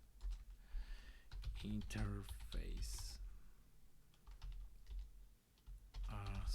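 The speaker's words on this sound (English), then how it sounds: "A lot of typing." Rapid typing on a computer keyboard clicks in quick irregular bursts, close and soft, under intermittent speech.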